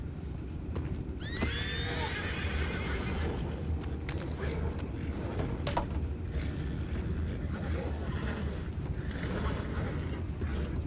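Horses in the video game Red Dead Redemption 2 give a rising whinny early on, over a steady outdoor bed of clip-clopping hooves and creaking tack, with a few later sharp knocks.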